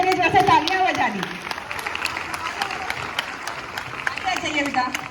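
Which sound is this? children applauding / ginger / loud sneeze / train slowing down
children applauding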